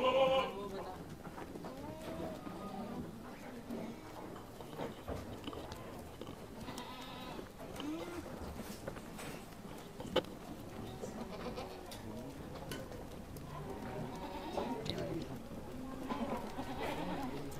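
Long-eared Kota does on a goat farm bleat in repeated calls, some near and some farther off, under steady talking among people.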